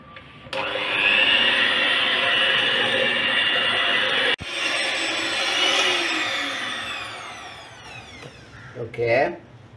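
An electric mixer beats cake icing with a splash of milk, a loud steady whir that runs close and continuous, stops briefly, then starts again and slowly winds down.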